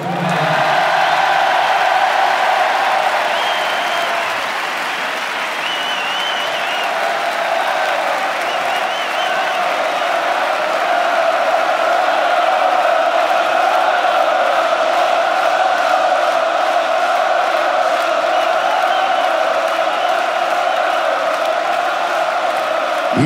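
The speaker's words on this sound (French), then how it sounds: "j'aimerais vous entendre les applaudir très fort" A large stadium crowd applauds a choir at a 1998 concert at the Stade de France, steady loud clapping and cheering that sustains evenly for over twenty seconds with no break.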